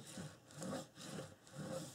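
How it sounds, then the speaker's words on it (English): A folded paper hinge on a wedding album page is burnished by hand, giving soft close rubbing strokes that come in about four rhythmic swipes with short gaps between them. "then burnish it."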